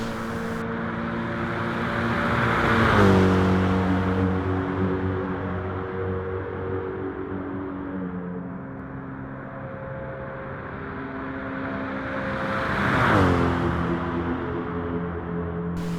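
A racing car in a racing game drives flat out in sixth gear on the Nürburgring Nordschleife, its engine holding a steady, buzzing drone that swells louder twice as the pitch shifts.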